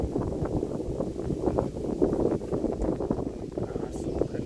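Wind blowing across the Pha Sud Phaendin cliff viewpoint gives a steady, loud rumbling buffet that persists through the whole stretch with no pause.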